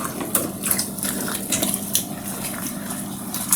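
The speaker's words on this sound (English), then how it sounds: "Now that I've scrubbed it, I'll try and rinse it a bit more." Running tap water rinsing a scrubbed surface in a kitchen or bathroom, a steady close splashing gush with small irregular spatters throughout.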